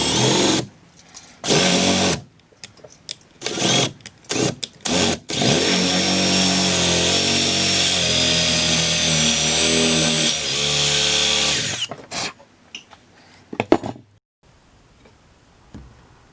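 A power drill boring holes in a wooden post: a loud, steady whine that runs for several seconds and is framed by short start-stop bursts at either end.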